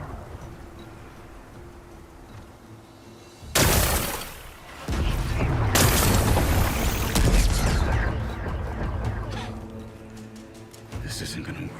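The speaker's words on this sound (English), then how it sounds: "Gotta blast away some rocks, so I can expose the power cell." Rock-blasting explosions in the game Horizon Forbidden West: a sudden loud burst of crashing, shattering debris, then a second sustained roaring blast with rumbling and crackling rubble that slowly fades.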